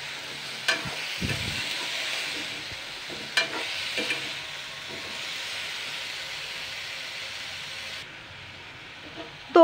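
Yam bean and peas sizzle in a frying pan while being stirred, giving a steady hiss broken by several scraping and clattering strokes of the utensil, and a louder clank at the end.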